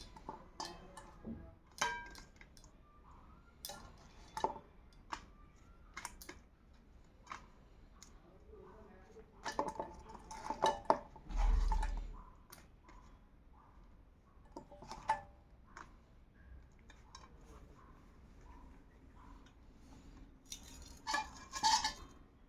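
Cutlery and dishes clink lightly and sparsely as a dinner plate of paratha and potato curry is served. The clicks are quiet and scattered, with a soft voice heard now and then.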